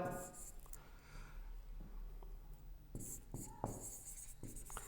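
Marker or chalk writing words on a classroom board, faint scratchy strokes in short bursts with pauses, quiet and close.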